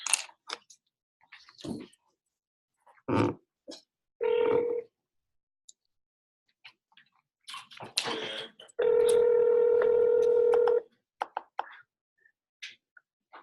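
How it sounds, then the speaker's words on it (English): Telephone keypad tones sounding at a receptionist's desk, one short beep followed later by a longer sustained tone, set among scattered knocks and handling clicks in an otherwise quiet room. "pay attention to is not just the phone calls, but also the speed at which I dial"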